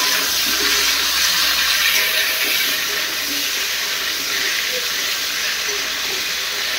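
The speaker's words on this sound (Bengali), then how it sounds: "আর এখানে হচ্ছে পটল ভাজা হচ্ছে" Pieces of pointed gourd (potol) fry in a pan of oil for a potato curry, giving a steady, dense, close sizzling hiss that holds at an even level throughout with no talking.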